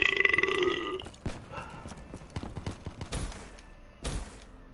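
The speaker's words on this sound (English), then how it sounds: "That's where the burp was." A single burp during a Black Ops 3 gameplay session, brief and fairly loud up front, followed by sparse thumps and clicks of game action.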